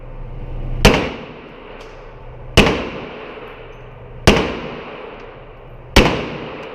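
Gunshots at an outdoor shooting range, four loud, sharp single reports spaced evenly about two seconds apart, each ringing out and decaying before the next.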